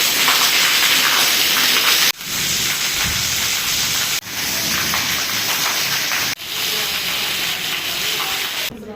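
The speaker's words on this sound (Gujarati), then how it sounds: "વરસાદ પડે છે" Heavy rain pours down in a loud, steady hiss that fills the air without letting up.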